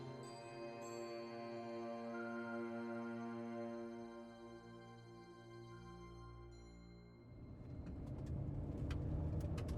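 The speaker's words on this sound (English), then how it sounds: "This vehicle has an engine, Strax." A car engine runs steadily as a sound effect in an audio drama, a smooth humming idle that shifts in tone partway through and turns to rougher, louder rumbling toward the end.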